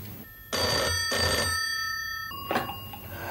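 An old-style telephone bell rings in an office, two long loud rings followed by a shorter burst, clear and close with no voices.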